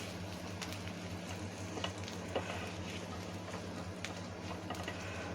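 Grated coconut frying in coconut oil in a pan, a quiet steady sizzle with light scraping and stirring taps, close but faint, over a low hum.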